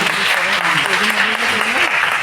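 An audience claps at a Gujarati reading-inspiration competition event. The dense, sustained applause fills the room while a voice carries on faintly underneath.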